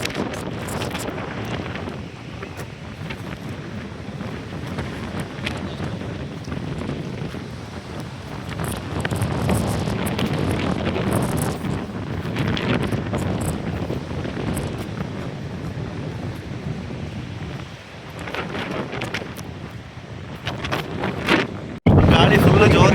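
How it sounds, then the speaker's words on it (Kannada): Strong wind at a hilltop viewpoint buffets the microphone with loud, continuous rumbling gusts that surge and ease for over twenty seconds, with a sharp burst near the end. "ಇಲ್ಲಿ ಅಂತೂ ಜೋರು ಗಾಳಿ ಬೀಸ್ತಿದೆ"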